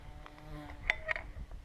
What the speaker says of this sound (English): I don't like the bees.